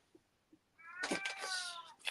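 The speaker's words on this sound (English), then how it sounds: "I have the cats wanting to come in" Pet cats meowing outside a door, wanting to come in: one drawn-out, harmonically rich meow after a couple of faint sounds, then a short second cry, fairly quiet and alone.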